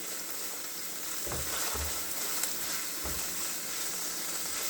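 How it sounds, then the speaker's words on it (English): Onion and garlic fry in a pan, a steady soft sizzle and hiss with a few low scraping stirs of the spoon, close and alone with no voices. "I'm going to stir all of this in here for a little bit, minute or two"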